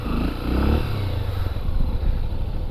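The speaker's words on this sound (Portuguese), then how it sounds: "Só escutando a lenta da moto." A Honda XRE motorcycle engine idles in neutral with a steady, close low rumble that continues unbroken for the whole stretch, with no talking over it.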